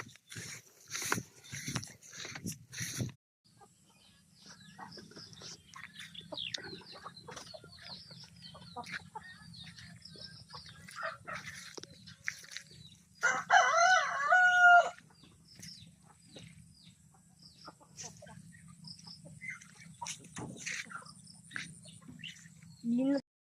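Chickens cluck in a coop and a rooster crows loudly in a burst midway, with a dog-like bark and a low steady hum running underneath.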